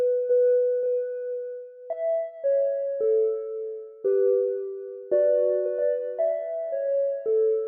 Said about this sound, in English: It's like a bell sound. I'm using Sky Kids for this.